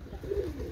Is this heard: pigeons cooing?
yes